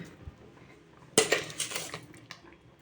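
Sugar stirred into milk kesari (semolina) in a pan: a sudden clatter of a spoon scraping and clinking against the metal pan, a few quick strokes, close and moderately loud.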